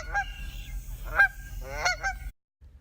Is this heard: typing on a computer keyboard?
no